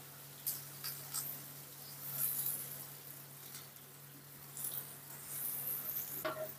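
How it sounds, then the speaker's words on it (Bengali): Young jackfruit fries with turmeric in a pan, giving a soft, faint sizzle broken by light stirring scrapes and clicks, with no talk. "আমাদের ইঁচড়টা ভাজা হয়ে গেছে।"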